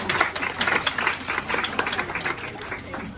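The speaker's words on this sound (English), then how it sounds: "Let's give him a round of applause for that demonstration." A crowd on a Portland Spirit Valentine's dinner cruise applauds after a life jacket demonstration, with steady, dense clapping that runs throughout and a few murmuring voices mixed in.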